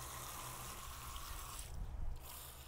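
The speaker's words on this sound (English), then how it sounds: "I'm going to water the bathtub to saturate the soil as much as I can." Water splashing and trickling into a bathtub planted with carnivorous Sarracenia over pea gravel, a continuous rushing pour with a brief louder gush near the end.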